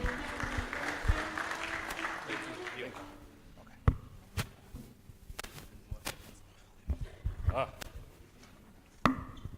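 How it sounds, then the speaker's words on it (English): Applause from an audience at a hotel industry launch event for training programmes, honoring the chair of the hotel general managers, fills the first few seconds fairly close, then fades into scattered claps and thuds. "Once again, a round of applause to him."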